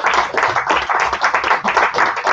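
A dense, continuous round of audience applause fills a hall at comedy-show level, many hands clapping loudly and steadily throughout with no voices rising above it.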